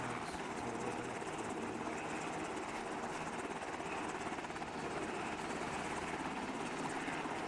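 A video-game helicopter, flown like a Chinook, drones in a steady, loud rotor-and-engine wash that holds level throughout with no talking.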